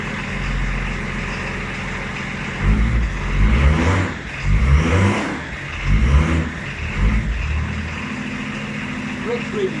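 Range Rover P38 engine running at idle with a steady low hum, then several short revs push up the level before it settles back to idle; voices speak faintly over it.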